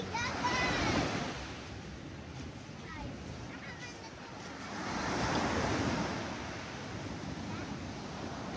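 Sea waves surge and wash onto a white-sand beach in a broad roar that swells and recedes, with wind buffeting the microphone and faint voices nearby.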